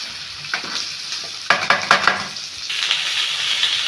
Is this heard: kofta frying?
yes